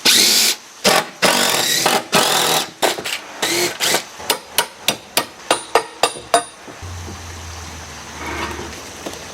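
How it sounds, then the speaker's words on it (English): Sharp wooden knocks and cracks as a deck plank is pried up come in quick irregular bursts, then settle into a run of evenly spaced hammer-like taps before a low hum takes over. "Take up this plank of decking, see if I can get in there better."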